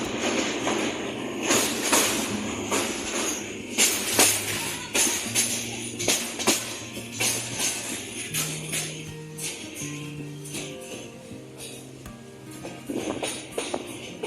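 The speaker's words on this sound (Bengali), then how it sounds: "পারাবত এক্সপ্রেস ট্রেনটি রেল সেতু অতিক্রম করে আস্তে আস্তে আবার তার নিজ গন্তব্যের জন্য" The Parabat Express train rumbles steadily across a rail bridge with a rhythmic metallic clatter of wheels and a low droning hum, loud and continuous throughout.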